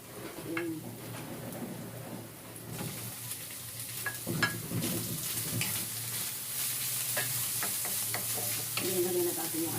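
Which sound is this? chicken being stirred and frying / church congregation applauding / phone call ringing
chicken being stirred and frying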